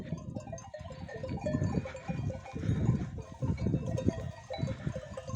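Sheep bleat in a pen at a highland farm, repeated nearby calls overlapping one another with short pauses, and no talk over them.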